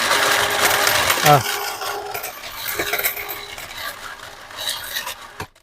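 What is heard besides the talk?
coin counter jamming on coins and stopping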